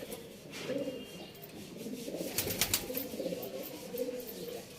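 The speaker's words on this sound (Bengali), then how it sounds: "বাহ সুন্দর পায়রা" Pigeons coo in soft, repeated throaty rumbles, a steady rhythmic series of low calls close by, with faint rustling and scuffling around them and no talking.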